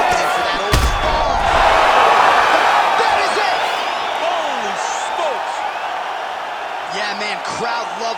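Virtual arena crowd in EA Sports UFC 5 roars loudly and steadily after a fight-ending punch, with whoops and cheering swelling then holding under commentary voices.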